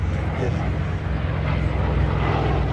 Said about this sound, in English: There's the Yak 3. Smallest of all the fighters of World War II.